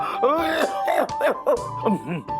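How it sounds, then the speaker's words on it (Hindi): Coughing and throat-clearing up close, several rough bursts mixed with groaning, strained vocal sounds. "अरे आपको क्या हो गया? खांसी,"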